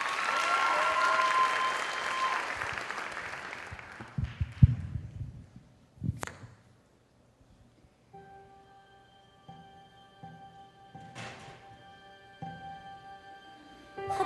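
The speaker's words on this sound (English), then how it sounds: "Amanda Lee, give her a big round of applause." Talent show finals audience bursts into loud, dense applause that thins into scattered claps and fades. After a short quiet gap, faint music with a few claps begins.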